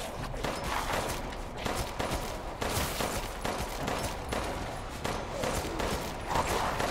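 Rapid gunfire in Resident Evil Village, a dense, steady barrage of shots continuing throughout without pause, fairly loud and close, with no talking over it.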